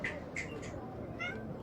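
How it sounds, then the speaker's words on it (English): A house cat meows several times, short rising cries spaced apart, fairly faint over a quiet room hum. "Cat, get out of the way."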